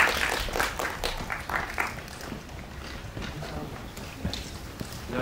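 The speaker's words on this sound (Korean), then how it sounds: "박수 부탁드리겠습니다." Audience applause fills a film press screening, with dense, steady clapping from many hands that stays moderately loud and continuous throughout.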